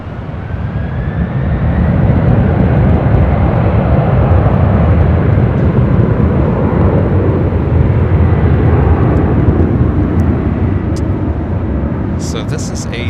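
A Delta heavy jet rolls for takeoff on runway 24 Left at LAX, a loud broad roar building within the first two seconds and holding steady, with a thin whine early and a few clicks near the end.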